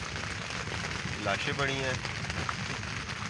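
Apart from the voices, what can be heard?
heavy rain falling at a dam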